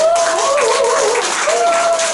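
An audience at a cosmetics product lecture claps briefly, bright clapping that runs for about two seconds under a prominent voice carrying through the room.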